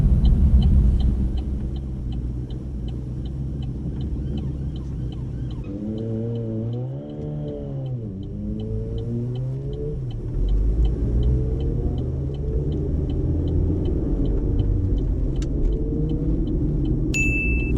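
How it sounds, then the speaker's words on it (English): A car being driven on a 30 mph road during an English driving test gives a steady, close engine and road rumble from inside the cabin, with a brief wavering tone partway through. "again, Simranjeet is driving too fast, so I have to ask him to slow down"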